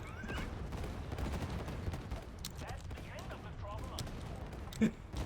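Bombs thrown by an ogre explode in the video game Myth, a busy stream of crackling blasts and pops under game noise and chatter, with one sharper burst near the end.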